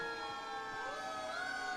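A fire engine siren wails in a long rising and falling tone, fairly faint and distant, with steady background noise, during a Santa parade.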